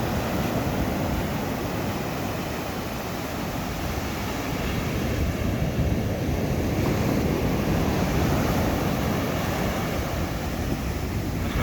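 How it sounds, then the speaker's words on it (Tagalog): Large waves and strong wind batter the sea off Bataan in heavy rain, a loud, unbroken roar with gusty buffeting on the microphone throughout and no talk. "laki ng alon"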